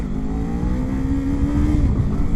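A Kawasaki Z 500 roadster engine holds a steady high rev during a first-gear, low-speed wheelie, then drops off near the end, heard close and continuous.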